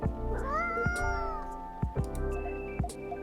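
A cat meows in the video game Coffee Talk 2, one drawn-out tonal meow followed by a few short chirps over soft ticking.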